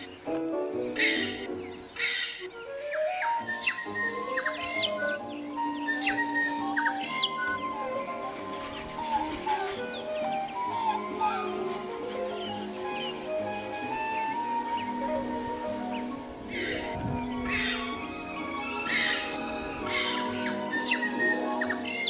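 Birds at a backyard feeder squawk and chirp repeatedly, with loud, close, harsh calls and thinner tweets overlapping in an irregular stream throughout.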